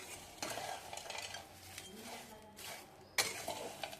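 Dried prawns, cleaned of tails and feelers, frying and being stirred in a pan, with soft sizzling and a few scraping utensil strokes that grow louder near the end.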